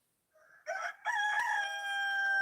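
A rooster crows once, fairly close and clear, the call rising and holding as a long sustained note, with no talk over it.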